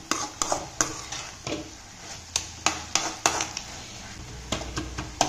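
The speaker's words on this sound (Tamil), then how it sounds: "கீரையை நல்லா கொத்தி விட்டுருங்க" Greens and banana flower being stirred in a pan, with a spoon scraping and tapping the metal in an irregular rhythm of close, distinct clinks over a soft sizzle.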